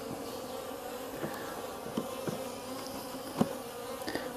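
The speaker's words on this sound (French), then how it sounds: "Alors ces faux bourdons, ils font un raffut." Drone honeybees buzz loudly at an open beehive, a dense continuous hum with individual bees droning past close by, no voices.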